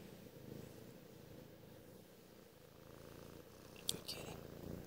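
A cat purrs softly and continuously at close range, a low steady rumble with faint rustling and a brief tap near the end.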